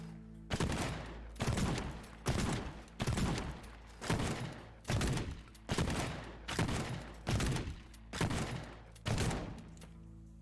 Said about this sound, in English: Let's make use of the shotgun.